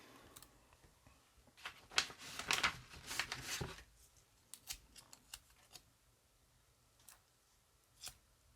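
Sticky tape pulled and cut while making a ribbon pompom: several crisp tearing and snipping bursts over a few seconds, then scattered sharp ticks and clicks, close and fairly quiet, with no talk.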